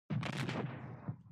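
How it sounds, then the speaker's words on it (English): A single heavy blast with a rumbling burst and decaying tail rings out inside Subnautica in VR, sharp onset, fairly loud and close, with no voices. "Ignore all the explosions and warnings."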